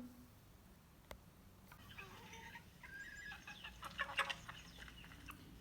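Faint chickens clucking and a rooster calling in the distance, soft irregular bird calls over a quiet background.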